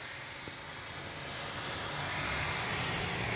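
A Freewing 64mm EDF RC jet flies in a crosswind, its ducted fan making a steady, distant whooshing whine that swells gradually in loudness, with no voices.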